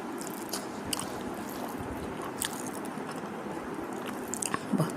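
Someone eats rice mixed with drumstick curry by hand, producing soft wet squishing and chewing sounds up close, quiet and continuous with a few sharper smacks near the end.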